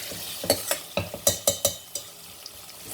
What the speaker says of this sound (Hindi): आप देख सकते हैं सब्जी हमारी अच्छे से भून चुकी है